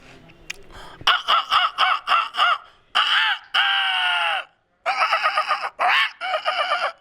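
A voice imitates a rooster crowing and a hen clucking, several loud harmonic calls in bursts, close to the listener.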